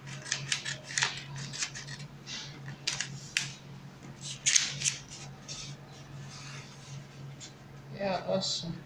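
Scissors snipping out a paper pattern for an off-shoulder blouse, quick close crisp cuts in short irregular runs, with soft paper rustling and a voice speaking quietly in between.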